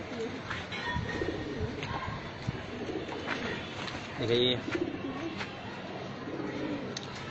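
Pigeons coo repeatedly in soft, rolling calls nearby, while someone talks over them.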